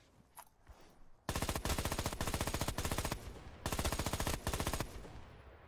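Rapid automatic fire from an NVA weapon in Rising Storm 2: Vietnam rattles out in three loud sustained bursts with short pauses between them, close and crisp, after a brief quiet lead-in.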